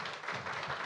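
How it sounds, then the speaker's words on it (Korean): An audience at a parent-education talk claps in thanks for two mothers who shared their stories. The applause is dense and steady, filling the short moment at close range with no talking. "우리 두 분 어머니께 감사의 박수 드리겠습니다"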